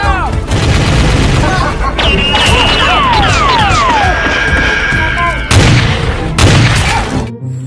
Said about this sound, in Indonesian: lihat yang ini tembakan shotgun